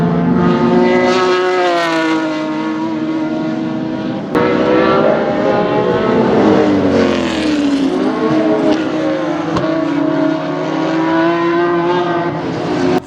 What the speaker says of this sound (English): Ryan Dunsmuir had skipped round 3 but was back for round 4 in his glorious sounding BMW